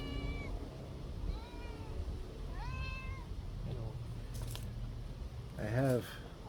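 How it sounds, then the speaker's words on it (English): A pet cat meows indoors several times, each call a short, rising and falling cry. The final meow near the end is louder and closer, heard over a low, steady room hum. "My cat's here with me."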